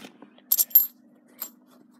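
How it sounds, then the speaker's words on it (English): Metal coins from a personal collection clink as they are handled and dropped onto a pile, two quick bright clatters close together and then a single lighter clink, close and clear in a quiet room. "let me collect them in a pile, because there's different coins here"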